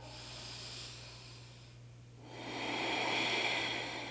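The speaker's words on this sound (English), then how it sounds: "And let's do 1 more breath." Slow, deep breathing during a morning yoga pose for sore muscles: a long hissing exhale fades into a pause, then a fuller inhale swells, close and steady over a constant low hum.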